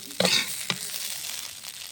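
Cabbage or cauliflower fries in a pan with a soft, steady sizzle, broken by a couple of sharp stirring scrapes near the start, close and fairly quiet.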